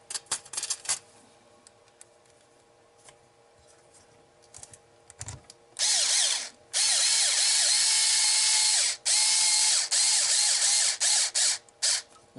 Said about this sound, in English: I'm half forcing the screw in